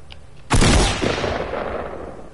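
A single loud gunshot in a video game fires sharply, then fades out in a long, rumbling reverberant tail.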